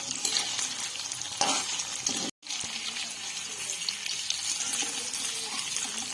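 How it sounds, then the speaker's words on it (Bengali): Paneer cubes fry lightly in hot oil in a pan, a steady close sizzle with stirring scrapes that cuts out briefly for a moment before resuming. "হালকা ভেজে নেবো বেশি ভাজা দরকার নেই"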